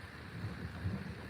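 Thunder from cloud-to-cloud lightning directly overhead during a country storm: a continuous low, rolling rumble over a steady rain-like hiss, with no voices.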